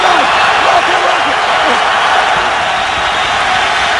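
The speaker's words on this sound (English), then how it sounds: "now the crowd noise deafening in this part of the field" A loud, dense roar of the stadium crowd at a 2011 Chargers at Raiders football game near the goal line, sustained and overwhelming, with a broadcast commentator talking over it.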